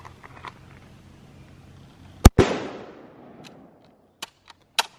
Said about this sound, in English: Now I'll shoot it this time. Make sure it's going to work.